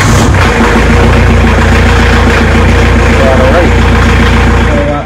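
An AGT 860 tractor engine turns over and settles into a loud, steady idle, a deep, rumbling drone that stays close and constant throughout.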